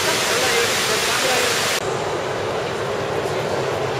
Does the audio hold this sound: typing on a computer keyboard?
no